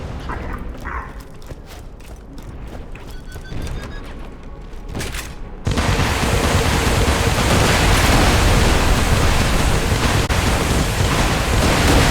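An explosion in Borderlands 2: after a quieter stretch of scattered clicks and knocks, a sudden loud, broad roaring blast erupts and keeps rumbling steadily to the end.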